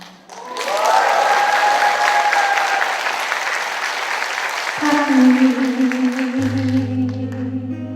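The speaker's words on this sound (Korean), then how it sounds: "그럼 막 함성과 박수가" Concert audience in a hall bursting into cheering and sustained applause, loud and dense, with shouts rising over the clapping before sung or played tones emerge toward the end.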